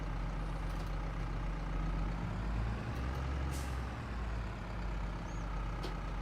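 Heavy farm vehicle engine in Farming Simulator 22, a continuous loud low rumble with a brief hiss of air release midway while reversing, steady throughout.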